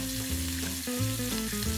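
A barramundi fillet fries in a hot pan with a continuous close sizzle and crackle while it is turned with a spatula; soft tonal background sounds run underneath.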